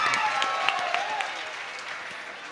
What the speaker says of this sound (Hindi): एक बार जोरदार ताली होगा।